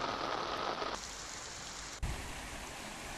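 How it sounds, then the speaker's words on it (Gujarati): Heavy downpour in the Amreli district countryside, a steady dense hiss of rain falling on surfaces with a brief thump partway through, constant and fairly close. "હાલરિયા, સરસિયા, ગોપાલગ્રામ પંથકમાં પણ ધોધમાર વરસાદ"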